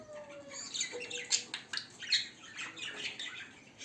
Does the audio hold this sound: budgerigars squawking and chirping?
yes